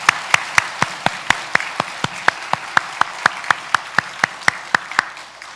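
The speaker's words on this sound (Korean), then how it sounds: "우리 하나님 앞에 박수로 영광을 올려 드리도록" A church congregation claps in unison during a Sunday service, about twenty crisp, evenly spaced beats keeping a steady rhythm throughout.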